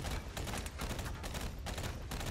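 Sustained gunshots in the video game Battleborn, a dense run of rapid repeated shots filling the whole moment at steady loudness with no talk.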